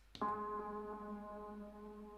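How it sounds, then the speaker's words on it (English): A single synth note strikes and rings out through a ping-pong delay, its sustained, echoing tail bouncing and repeating softly, fading slightly over a couple of seconds. "and also changing to ping pong delay."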